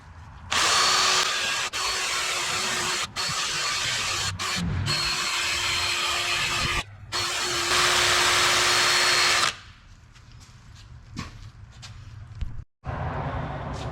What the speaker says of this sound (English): start cleaning this up with our wire wheel